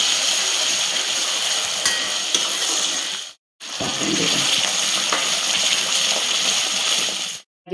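Sambar masala and onion fry in a pan, giving a steady broadband sizzle that breaks off briefly in the middle and resumes, close and fairly loud with no talk.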